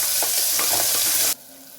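Tomato pieces fry in hot oil for a Chettinad chicken gravy, giving a loud, close, crackling sizzle with stirring movement that cuts off sharply partway through and leaves only faint background hum.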